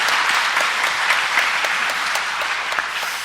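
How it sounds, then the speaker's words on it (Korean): Congregation applauding at a Christmas Day Mass in church, a steady, dense wash of many hands clapping together, sustained and fairly loud throughout with no voices rising above it. "성탄 함께 축하하는 박수 함께 치겠습니다"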